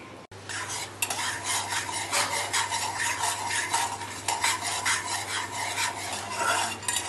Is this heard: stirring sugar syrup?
yes